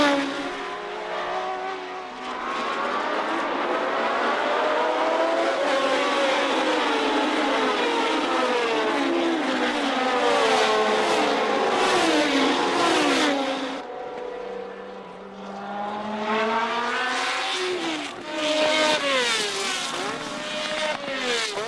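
1970 Formula One race cars, among them Lotus, Matra, Brabham and de Tomaso entries, screaming past in a loud continuous pack, engines rising and falling in pitch as they pass close by, with no talk.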